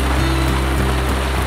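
Steady rain falls in a rural chili garden, a dense continuous hiss with a low rumbling undertone, close and fairly loud, with no speech.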